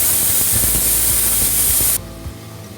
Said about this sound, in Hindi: कुकर से सारे प्रेशर को निकाल लिए।